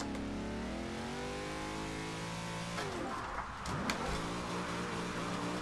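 A Ford Escort engine drifting in the racing game Forza Horizon 2 hums at steady revs, then dips and climbs sharply as the car slides, faint and continuous with no talk.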